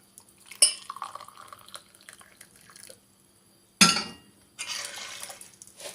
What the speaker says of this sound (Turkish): Şimdi suyunu koyuyorum.